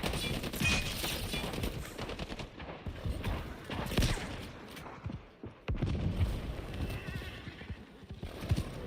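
Bursts of gunfire in a video game crackle amid a busy mix of game sounds, including hoofbeats and horse noises, with the shots coming in clusters and some quieter gaps between them.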